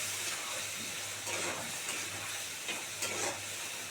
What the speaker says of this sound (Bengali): এবারে এটাকে খুব সুন্দর করে কষাবো যেন কাঁচা মশলার গন্ধটা যেন না থাকে